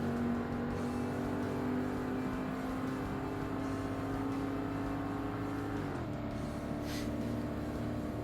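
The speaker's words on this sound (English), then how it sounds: "You can certainly hear it, though, with its exhaust note." A C-class race car in Forza Motorsport during an endurance race holds a steady droning exhaust note, with its pitch dipping near the end as the car shifts or lifts off the throttle.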